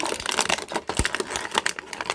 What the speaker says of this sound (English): Let's do some crinkling.